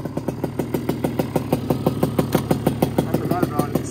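A Banshee 350 or KTM 450 ATV engine runs roughly, putting out a rapid, uneven chain of loud, close put-put firing pulses at a fast idle, with no steady smoothness.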